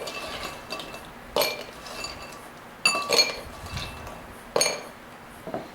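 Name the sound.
ice clinking into a rocks glass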